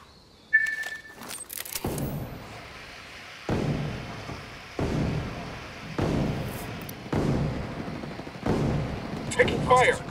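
Video game gunfire in the form of a handful of heavy, spaced shots or blasts with booming decays, arriving roughly every one to two seconds over a quieter background with brief electronic sounds.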